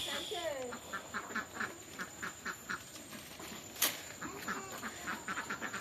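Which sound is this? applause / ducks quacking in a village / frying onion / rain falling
ducks quacking in a village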